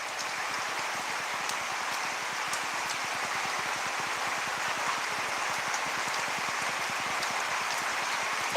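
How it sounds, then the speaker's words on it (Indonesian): Steady rain falls at home in Kapuas, a dense, even patter of drops on surfaces with constant hiss and no talk. "Di sini juga hujan."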